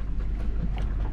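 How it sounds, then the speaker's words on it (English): Steady low rumble of gale wind buffeting a Nor'Sea 27 sailboat at anchor in Calcasieu Bay, Louisiana, constant and unbroken over a short stretch, with no voices. "Not sure if you can hear the wind"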